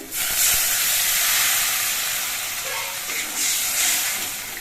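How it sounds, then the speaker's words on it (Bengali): Broth poured into a pan of sautéed spices for a pomfret fish curry, setting off a loud, steady hiss and sizzle that swells and fades slightly over a few seconds, with no talking. "মশলাগুলো বেশ কিছুক্ষণ সময় কষিয়ে নিয়েছি এবার এর মধ্যে আমি ঝোল দিয়ে দিচ্ছি"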